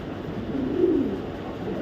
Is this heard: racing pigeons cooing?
yes